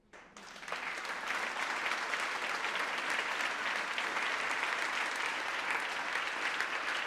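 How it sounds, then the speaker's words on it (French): Sustained audience applause at a women's empowerment event, swelling in within the first second and holding steady and loud throughout. "applaudissez-la."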